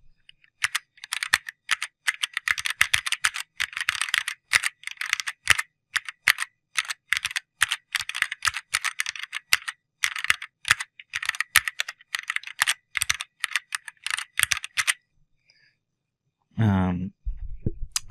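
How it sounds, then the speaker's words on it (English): Rapid clicky typing mixed with chorded key presses on a CharaChorder Lite keyboard, dense bursts of close clatter with short gaps, ending in a brief pause and a final low thump. "let's do a sound where it's got some chording and some typing"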